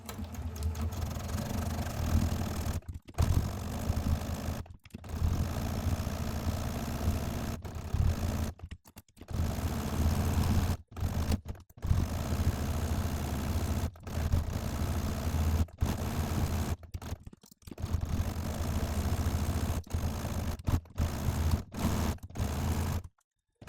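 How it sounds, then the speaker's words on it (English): A sewing machine with a quarter-inch foot stitches a quilt seam, running in long steady whirring bursts separated by brief stops throughout. "I'm going to stitch a 1/4 inch seam."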